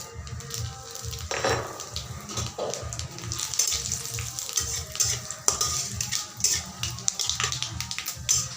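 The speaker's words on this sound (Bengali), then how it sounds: "এখন ওই তেলেই আমি ফোড়ন দিয়ে দিচ্ছি।" Ground spices temper in the leftover oil from frying rui fish, giving a crackling sizzle with sharp pops and bursts over a steady hiss, close and moderately loud.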